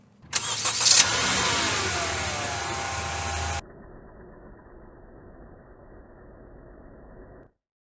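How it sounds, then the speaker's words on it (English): A Honda Civic engine starting: a brief starter crank, then the engine catches with a loud rev before settling into a quieter, steady idle that runs until the sound stops. "Turn on the car."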